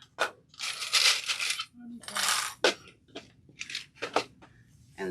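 Metal sewing clips clatter and jingle as they are scooped from a small holder pot, in several bursts of rattling metal close by, with brief pauses and soft handling sounds between them.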